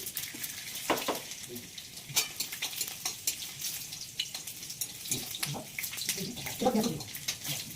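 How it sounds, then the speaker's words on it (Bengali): Whole cumin, dried red chillies and garlic fry in hot oil, a sizzle punctuated by clattering stirs and scrapes of a utensil in the pan, with faint speech in the background. "শুকনো লঙ্কাটা দিয়ে দিলাম। এবার দিয়ে দেবো গোটা জিরে, গোটা দিয়ে দিলাম। এবার দিয়ে দেবো রসুন"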